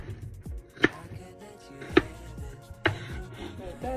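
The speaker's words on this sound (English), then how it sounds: "I'm just gonna chop here" A knife chopping through butternut squash on a cutting board, three distinct heavy chops spaced about a second apart, close and clear, with faint handling sounds between.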